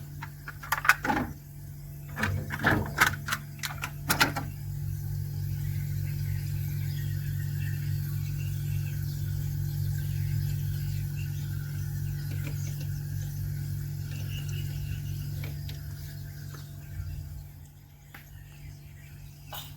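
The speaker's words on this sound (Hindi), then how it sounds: "इसके अंदर से गैस के सर्कुलेट करने की हवा आ रही है" A refrigerator compressor runs with gas circulating inside, giving a steady low hum and faint airy hiss that holds for most of the stretch, after a few sharp clicks and knocks near the start, then fades slightly near the end.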